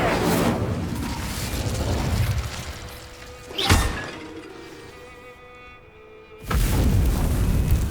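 Fire spell cast in the video game Hogwarts Legacy, heard as loud whooshing bursts of flame with a sharp crackling impact in the middle, then a quieter lull before another roaring burst.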